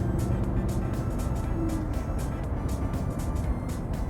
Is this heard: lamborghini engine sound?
yes